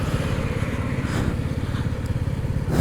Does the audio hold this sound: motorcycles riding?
yes